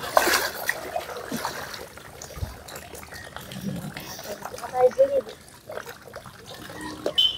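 Palm fruits are washed in water in a village home on Janmashtami, giving close, intermittent splashing, trickling and rubbing with uneven bursts of activity.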